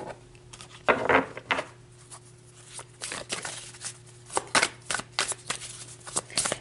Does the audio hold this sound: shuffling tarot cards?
yes